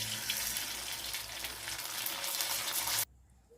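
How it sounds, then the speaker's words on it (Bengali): Sago papads crackle and sizzle steadily in hot oil, a dense continuous frying hiss that cuts off abruptly near the end, leaving quiet. "এইভাবে আমি প্রত্যেক কটা পাঁপড় ভেজে নেব।"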